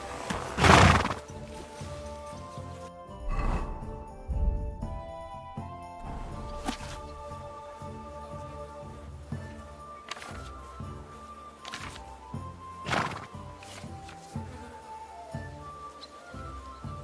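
Horse in the medieval game Kingdom Come: Deliverance 2 whinnies loudly once near the start, followed by occasional snorts, hoof clops and faint clinks over a quiet ambient backdrop.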